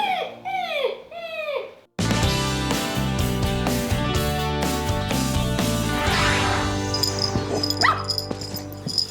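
A young puppy whimpers and yips in a rapid series of high, sliding cries, at first alone in a quiet space and then over a sudden loud, dense background.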